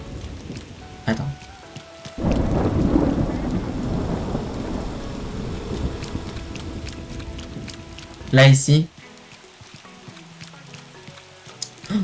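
Rain and thunder on an island in Animal Crossing: New Horizons, a broad steady wash of rainfall building in after a couple of seconds with a sharp rumbling burst near the end, while a person talks over it.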